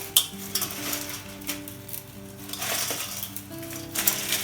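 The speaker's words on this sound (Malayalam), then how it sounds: "നമുക്ക് ഇങ്ങനെ പഞ്ചസാര പാനി ഇതിനകത്തോട്ട് ചേർത്ത് കൊടുക്കാം." Sugar syrup poured a little at a time into hot madhura seva, bringing soft sizzling bursts and light clinks over steady background hum, with no talking.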